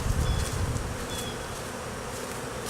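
Bees from a small relocated hive buzz on the hive, a steady close droning hum that is slightly stronger at first and then evens out.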